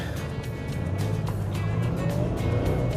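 A 4x4 on a sandy island beach is gently towed free by another vehicle, giving a continuous low engine rumble with a rough, close growl that builds slightly over a few seconds.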